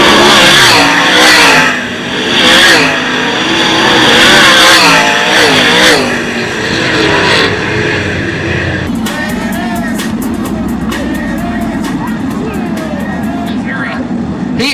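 Dirt race cars accelerate hard in a heat race at Attica Raceway, their engines roaring loud and continuous. An announcer talks over the noise for the first part of the run.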